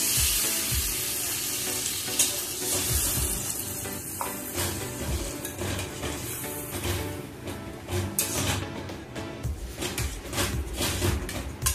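Pomfret fish sizzles loudly as it goes into a hot pan of fried spices, with a steady, dense crackle of frying that runs throughout.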